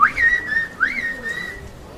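A clear, rising and sliding whistle in a Turkish whistled language, two melodic phrases in quick succession, close and alone with no talking.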